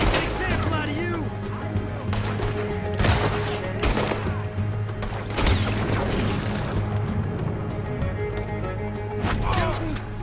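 Gunfire in a Red Dead Redemption 2 shootout, with repeated sharp shots and booms among horse hoof clops, under a constant layer of music and shouting voices.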